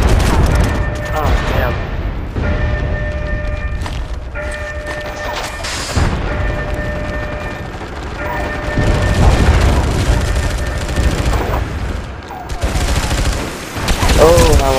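Dense gunfire from the online shooter MAG during a Domination match: rapid bursts and single shots crack repeatedly, with booming impacts and players talking over the chatter of weapons.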